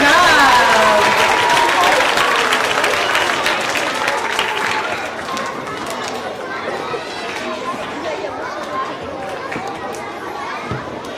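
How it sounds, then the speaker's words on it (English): An audience at an elementary school winter concert applauds a third grade chorus. Loud clapping slowly fades into crowd chatter and children's voices. "let's have another round of applause for our third grade chorus"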